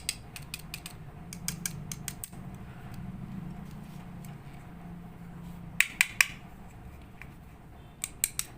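A Huina diecast toy excavator drill with a metal track chain is handled, giving sparse sharp metallic clicks and ratcheting ticks, close but quiet, with clusters of clicks near the start, middle and end.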